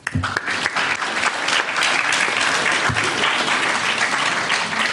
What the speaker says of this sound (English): So please join me now in welcoming David with a warm applause